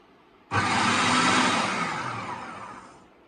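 An Usha FP 3811 1000-watt food processor pulses while chopping capsicum, a sudden loud whirring burst that holds steady and then slowly fades, with no talking.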